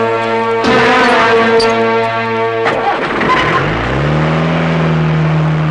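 A car starts up and pulls away fast, its engine revving loudly and steadily up in pitch, with a brief horn-like blare near the start; no speech.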